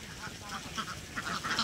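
Ducks on a farm quacking in a few faint, short bursts, with low background noise.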